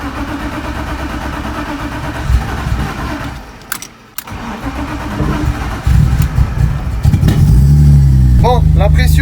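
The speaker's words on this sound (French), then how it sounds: "Vous allez voir qu'est-ce que c'est un démarrage à froid avec ma E36." BMW E36 with an M50 engine cold starting: a cranking whir, then the engine catches and settles into a loud, steady idle, heard up close with someone talking over it.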